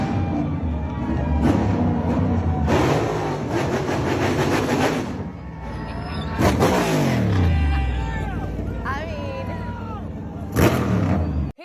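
A NASCAR race car revs loudly as it pulls into victory lane, engine surging in bursts among crowd noise and babble, with a sharp rising sweep midway and short bursts near the end.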